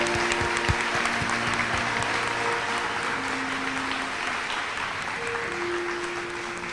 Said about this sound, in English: give a round of applause for your families